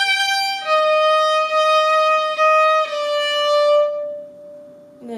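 A violin plays a short, slow phrase from a song, a handful of sustained bowed notes moving stepwise before the last note fades, played alone and up close.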